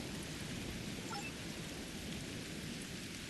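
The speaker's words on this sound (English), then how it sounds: "Wow, rain on Raza." In the Star Trek Online mission on the planet Raza, steady rain hisses continuously at moderate volume and stays constant throughout, with no talking.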